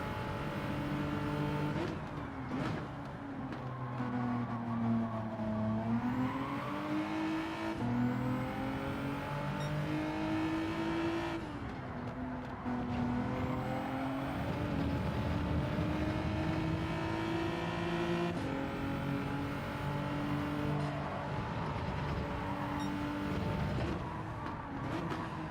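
Race cars in the video game Gran Turismo 7 roar through gear changes, the engine pitch climbing and dropping repeatedly over a continuous, steady drone with no talk.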